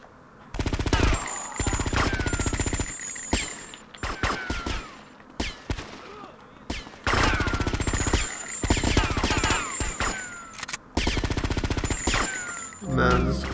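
Bursts of automatic gunfire in GTA Vice City, loud rapid rattling volleys separated by short pauses and mechanical clicks, close and dominant throughout.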